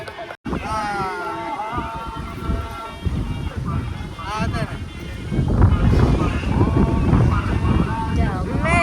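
Gusty wind buffets and rumbles loudly against the microphone while people talk nearby, the blustering growing stronger toward the end.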